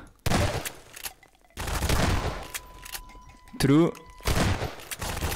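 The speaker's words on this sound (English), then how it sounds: "Bruh, stop shooting me." Gunfire in The Citizen, a Half-Life 2 mod, comes in separated bursts of rapid shots across the match, with a player's voice heard briefly at the end.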